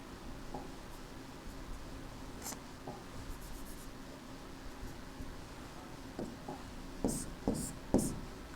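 Someone writes on a board by hand, with soft scratchy strokes and light taps over a quiet room hum that grow a little louder near the end, and no one speaks.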